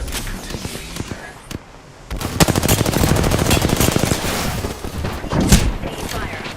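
Rapid automatic gunfire in a shooter video game, dense bursts of loud cracks that start abruptly and keep rattling for several seconds, with a voice speaking over it.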